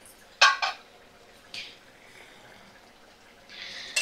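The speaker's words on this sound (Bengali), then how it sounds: "দেখো ঢাকাটা আমি তুলে নিলাম।" A metal lid lifts off a cooking pot of boiled pumpkin and Malabar spinach with a short clatter and scrape, then faint rattling and quiet kitchen background.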